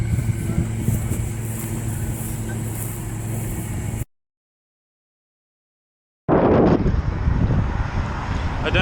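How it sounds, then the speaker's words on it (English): Loud wind on the Great Plains roars across the microphone while cycling, broken by a sudden stretch of silence before the heavy gusting returns even stronger. "it's so windy"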